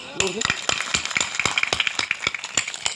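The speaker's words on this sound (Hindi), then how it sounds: "ताली बजा।" A crowd at a rally marking a religious festival claps hands in uneven bursts of sharp, bright slaps, with voices and chanting mixed in.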